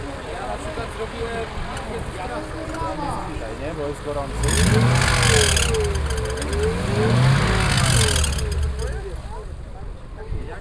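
A Mercedes engine catches and idles at close range, its rumble swelling twice into louder revs before settling back, with outdoor background noise throughout.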